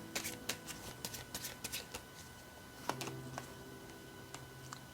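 Tarot cards are shuffled and drawn close up in a quiet room, with soft rapid riffling and several light slaps and flicks of card stock at an uneven rhythm.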